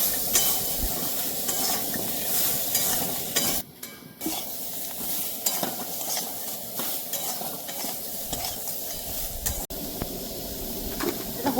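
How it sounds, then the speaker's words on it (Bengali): Mixed vegetables frying with turmeric and salt in a village-style vegetarian curry, a steady close sizzle with stirring scrapes throughout and a brief dip in the middle, no talking. "অল্প ভাজবো, হলুদ আর লবণ দিয়ে ভাজবো।"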